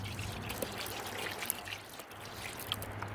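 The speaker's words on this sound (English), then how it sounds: "So we're just going to put a little jet dry into the water" Jet Dry rinse aid being poured into the water of a gold pan, a steady soft trickle and dribble of liquid heard up close and alone throughout.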